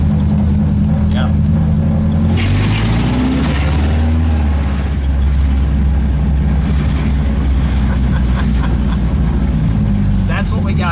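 A custom 1929 Ford Model A show car, lacking pull in first gear, drives with a steady low engine drone whose pitch rises and falls as it changes speed, running continuously beneath people talking.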